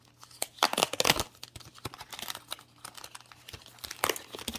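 Crinkly plastic packaging being opened to remove Color Street nail polish strips, a close, quiet run of crackles and rustles with a few sharper tearing bursts.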